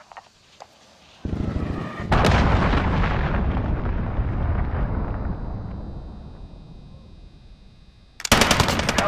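Cruise missile strike in Call of Duty: Modern Warfare: a few faint clicks, then a heavy rumbling blast that rolls and slowly fades, followed by a sharp burst of loud impacts at the end.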